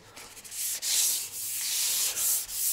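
Steady abrasive rubbing as paint is sanded on a Mazda car door, a close, continuous hiss with a few brief dips in stroke.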